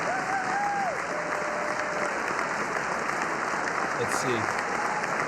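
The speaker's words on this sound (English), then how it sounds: "They're clapping for him." An audience claps steadily as Israeli Prime Minister Netanyahu enters for a speech, a sustained, even wash of applause heard at some distance while someone talks briefly over it.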